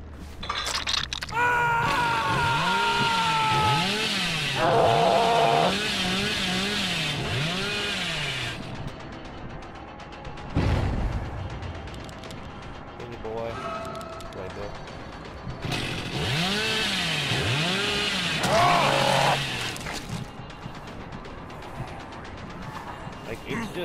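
Hillbilly's chainsaw in the horror game Dead by Daylight revs in long, loud, wavering bursts, rising and falling in pitch, broken by a short gap and a sharp impact, with game effects mixed in.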